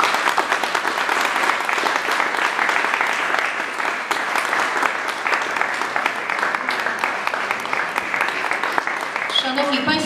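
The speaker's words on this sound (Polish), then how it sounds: "jeszcze raz proszę o oklaski dla Asysty Żywieckiej" Sustained, dense applause from an audience at a heritage-day presentation of the traditional Żywiec burgher costume by Asysta Żywiecka at Żywiec castle, steady and loud throughout, with a few voices emerging near the end.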